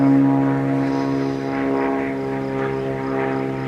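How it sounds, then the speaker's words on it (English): A propeller airplane drones steadily overhead outdoors, a loud, sustained engine hum with a rich buzzing tone that holds throughout, no talk. "Freaking planes, man."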